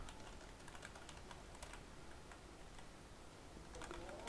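Quiet, rapid key taps on a computer keyboard as a login ID is typed into the Dragon Nest SEA PC game client, a soft scattered clicking that runs steadily throughout over low room hiss.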